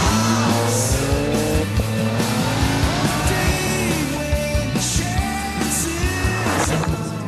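BMW Z4 sDrive35i on a test drive, its engine humming and shifting pitch steadily from the cabin with road and tyre noise throughout, loud and continuous with no talk.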